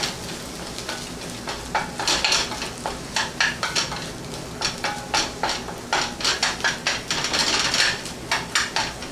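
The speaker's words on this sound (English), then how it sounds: "Onions are starting to cook. I need to keep them going," Onions cooking in a pan get stirred, with a soft sizzle underneath and a steady run of sharp clacks and scrapes from a utensil against the pan.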